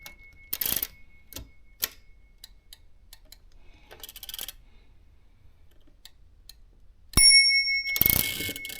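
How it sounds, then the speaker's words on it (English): The bell of a Royal 5 manual typewriter rings clearly, a sharp bright ding late in the sequence, preceded by scattered mechanical clicks and taps from the machine in a quiet room. "The bell is impressive,"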